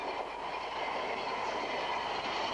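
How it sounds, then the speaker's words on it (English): An iron ore train of BHP's Mount Newman Mining Company runs along the rails at a Pilbara mine, giving a loud, continuous rolling rumble and hiss of heavy wagons close by. "These great trains of the world have been developed to serve some of the great mines of the world."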